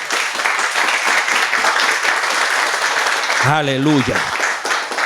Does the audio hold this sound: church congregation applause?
yes